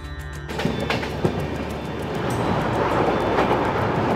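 A passenger train hauled by a WDP 4D diesel locomotive, the Kamakhya–Puri Express, rolls past in the rain. A sharp transient gives way to a swelling, steady rumble of rail noise and wheel clatter that grows louder toward the end.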